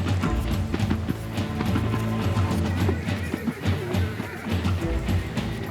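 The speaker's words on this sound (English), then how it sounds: "Farmers and stockmen take to their steeds, head to the mountains, and round up wild horses." Wild Australian brumbies being rounded up by stockmen in the mountains, with a steady, thudding clatter of galloping hooves over dense ambient noise and occasional neighs.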